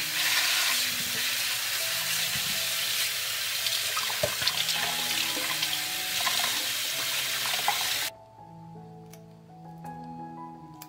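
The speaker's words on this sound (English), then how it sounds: "First, I will wash it and clean it from the stems." Fresh grapes rinsed under a running tap, a steady broad hiss of flowing water with small splashes and clinks for about eight seconds, then the flow stops and quieter handling sounds remain.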